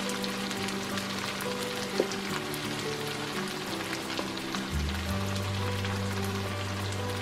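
Rice toasting in a pan with tomato for arroz con tomate y carne molida gives a steady, close sizzle and crackle with a low hum underneath, and no one speaks.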